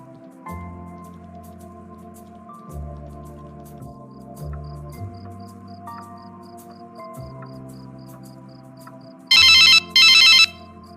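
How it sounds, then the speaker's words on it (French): A telephone rings twice in quick succession near the end, loud and bright electronic trills over a quiet bed of soft background music. "Allô, Grace."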